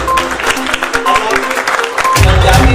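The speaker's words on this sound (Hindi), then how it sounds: "तालियां बजाइए।" Audience at the Mumbai launch event for Chaupal, a Bhojpuri OTT app: a loud voice over a lively crowd, then a burst of dense clapping swells up near the end.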